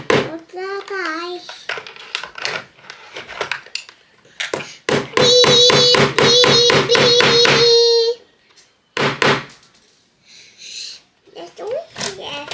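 Small nails are hammered into a laser-cut toy garage in a run of quick, ringing taps. A child and an adult talk before and after the hammering.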